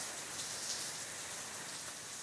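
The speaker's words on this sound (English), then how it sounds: "I'm hoping my voice is audible with that noisy rain in the background." Heavy rain falls outdoors as a dense, steady hiss that stays constant and fairly loud throughout, with no voices over it.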